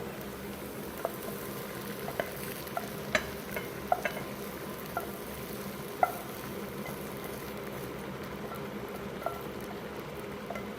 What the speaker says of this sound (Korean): 토마토 소스에 넣어주도록 할게요.